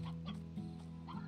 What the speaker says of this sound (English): some of the chicks grew up to be hens